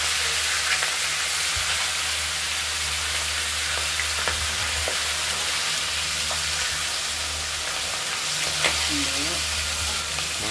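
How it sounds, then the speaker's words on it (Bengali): Rohu fish head frying in oil in a pan, a dense, loud, unbroken sizzle with occasional soft pops and scrapes, heard up close throughout. "আমরা ভালো করে তেলে ভেজে নিচ্ছি।"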